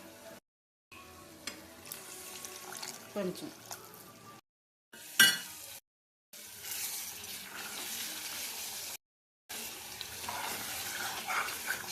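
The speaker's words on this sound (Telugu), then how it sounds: "ఈ నూనె అంతా ఇట్లా వచ్చేటప్పుడు ఒక చిన్నగా గ్లాస్ నీళ్ళు పోసుకోవాలి" Water is poured into a hot pan of tomato curry simmering in oil, splashing and sizzling in short bursts between cuts, with someone talking throughout.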